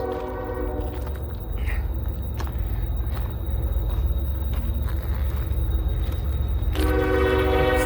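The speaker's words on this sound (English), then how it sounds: "We're gonna get a good horn show." Intermodal freight train rolling past with a loud continuous rumble and clatter, its horn blaring near the start and again in a strong closing blast, close and with no speech.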